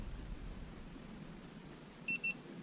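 Two short electronic beeps near the end, close together, over a low steady background hum, from a VIFLY wireless beacon buzzer for lost models.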